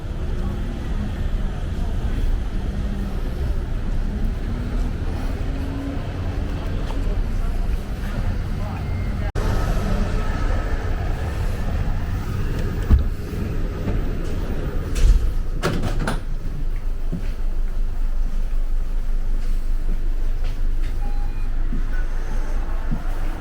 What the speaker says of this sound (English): And there's me tram pulling in